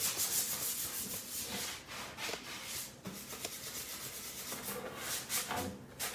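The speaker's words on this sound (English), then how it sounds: "use my little surf prep pad and start working, scuffing off some of the shine off of these legs" A surface prep pad scuffs the finish off golden oak wooden chair legs, producing quiet, irregular rubbing strokes with soft scratchy bursts, close and alone.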